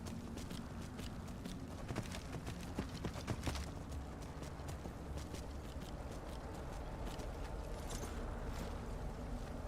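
Rhythmic hoofbeats of a galloping horse in Skyrim pound steadily over a dense, continuous background rumble, with no talking.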